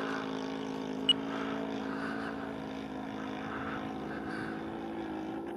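A P-47 Thunderbolt model aircraft makes a low pass, its engine a steady, even drone that holds at a constant moderate level throughout, with no voices.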